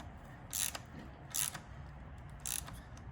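A ratchet tightens an Errex steering damper on a Dualtron Thunder electric scooter, three short bursts of fast clicking pawl strokes, close and crisp against a quiet room.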